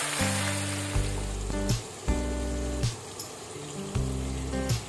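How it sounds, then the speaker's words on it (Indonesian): Tempeh fries in hot oil in a wok, with a steady close sizzle and crackle. Loud low background music with repeating chords plays over it. "Sekarang siapin wajan, panasin minyak. Aku mau goreng dulu tempenya."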